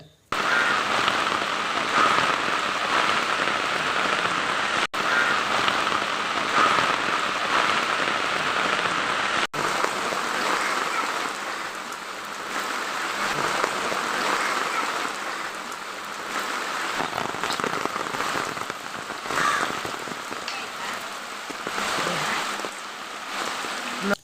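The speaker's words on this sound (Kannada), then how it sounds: "ಈಗ ಎರಡು ಮೂರು ದಿನದಿಂದ ಜೋರು ಮಳೆ" Heavy, steady rain pours down without letup, a dense hiss of drops drumming on surfaces close by, continuing unbroken with no voices.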